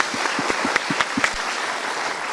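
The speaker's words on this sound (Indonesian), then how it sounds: "untuk mereka kita berikan tepuk tangan dulu" Applause from a studio audience at an Indonesian motivational talk show, a brief burst of fairly steady clapping with a few louder claps standing out, no one speaking.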